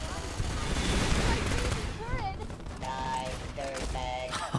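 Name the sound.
turret gunfire in video game Fallout New Vegas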